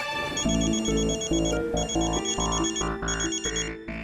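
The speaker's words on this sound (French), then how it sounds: "Koshi ne répond pas au téléphone" A telephone rings in a French-dubbed television drama series, a bright repeating electronic ringtone with steady evenly spaced pulses filling the whole short stretch, loud and close with no talking over it.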